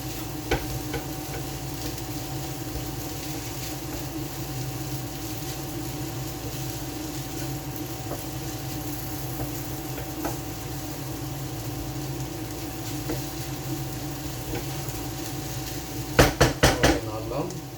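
Fried onion and spices being stirred in a pan, with continuous soft sizzling and scraping throughout and a quick burst of metallic clatters near the end.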